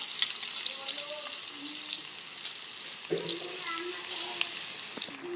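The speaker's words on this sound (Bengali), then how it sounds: "এই দেখো বেরেস্তার জন্য পেঁয়াজ ছিল দেওয়া হচ্ছে তেলে" Sliced onions go into hot oil for biryani beresta in a home kitchen, producing a faint, steady sizzle with a few soft clinks and a sudden louder hiss partway through.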